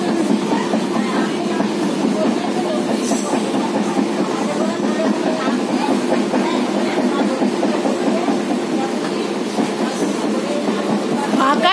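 An almost empty passenger train runs along the tracks with a steady loud rumble and rhythmic clatter of wheels, and voices and a child's play are faintly heard under it.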